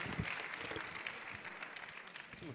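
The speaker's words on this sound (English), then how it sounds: "The cheering section." A cheering section at a school board meeting gives brief, fairly faint applause, a patter of scattered claps from a small group in a large room.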